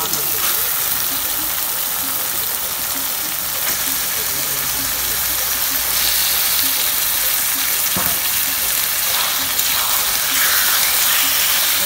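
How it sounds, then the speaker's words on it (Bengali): Chicken pieces go into cooking masala and sizzle in a steady, broad hiss that runs the whole time, with faint indistinct voices or background sound underneath. "এবার এর মধ্যে দেওয়া হচ্ছে চিকেন"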